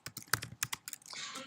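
Fingers tap out a short burst of keystrokes on a computer keyboard, uneven crisp clicks close by and fairly quiet, with a brief rustle at the end.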